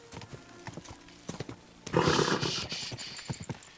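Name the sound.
horse hooves in Kingdom Come: Deliverance II video game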